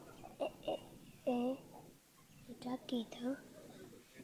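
Several short, soft clucking calls from a chicken, near and fairly quiet, with faint breathy sounds between them.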